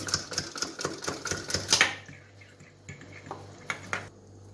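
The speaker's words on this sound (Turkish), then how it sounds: "Yoğurtlu sosumuz için 2 su bardağı yoğurt, 1 adet yumurta güzelce çırpıyoruz." Yogurt and egg whisked together for a sauce in a bowl, a rapid rhythmic clatter of whisk against the dish, busy and close at first, then slowing to scattered taps.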